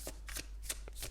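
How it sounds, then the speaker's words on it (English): Tarot cards are shuffled by hand in quiet, repeated crisp riffling bursts, close up and soft, with no voices. "I guess I just wanted to tell you why as I shuffle the cards."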